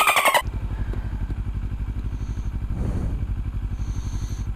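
A motor scooter engine runs steadily close by, its rapid mid-pitched pulsing even and unbroken outdoors in bad weather, with a brief sharp clatter at the very start.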